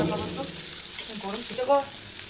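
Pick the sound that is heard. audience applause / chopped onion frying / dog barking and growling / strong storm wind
chopped onion frying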